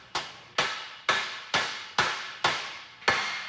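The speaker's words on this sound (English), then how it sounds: "That's why you gotta hammer the dowels in when you figure out what size you're using." Steel dowels being hammered into a McLeod 20-pound billet aluminum flywheel for a 2004 Mustang GT, seven sharp ringing metallic blows at a steady, even rhythm, close and loud with short decays.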